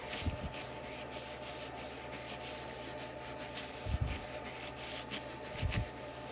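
A metal plate being rubbed and wiped clean with a cloth and methylated spirit on a home-made CNC machine bed, giving a steady soft scrubbing hiss with two brief louder bumps near the end.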